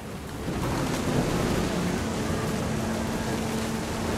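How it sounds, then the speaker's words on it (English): Steady heavy rain with rolling thunder from a video game storm in What Remains of Edith Finch, a dense continuous roar that swells early and holds loud throughout, with no voices. "The thunder sounded much too close and full of angry power"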